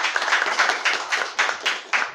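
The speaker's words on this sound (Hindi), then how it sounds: "आप खड़े होकर तालियां बजा रहे हैं" An audience on its feet clapping at a club award event, steady dense applause with sharper bursts of claps recurring about every quarter second, fairly close and loud, with no talking over it.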